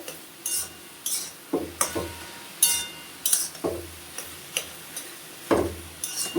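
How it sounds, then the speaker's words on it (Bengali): A utensil stirs taro greens in a cooking pan, scraping and clinking against the metal in a loose, repeated rhythm of about a dozen sharp, close taps. "একটু একটু ভালো করে নেড়ে দিলাম"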